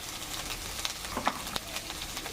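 Ginger-garlic paste with chili, black pepper and other ground spices sizzling in oil, a soft steady crackle close by, punctuated by a few sharp spoon clicks against the pan.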